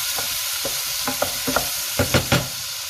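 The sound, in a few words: onions and tomatoes frying for curry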